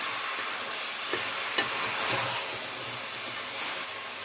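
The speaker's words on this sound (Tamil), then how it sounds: "இதை நல்லா மிக்ஸ் பண்ணிக்கலாம்." A spoon scraping and stirring moong dal with chunks of white pumpkin in a pan, heard as a steady close gritty rustle with a few soft knocks and no talking.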